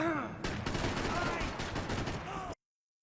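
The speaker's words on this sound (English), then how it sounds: "After shooting the first enemy, do a quick run, then shoot the second enemy to skip the kill cam." Rapid gunfire from shooting enemies in the video game Max Payne 3, a dense, loud burst of shots with a voice speaking underneath, cutting off abruptly after about two and a half seconds.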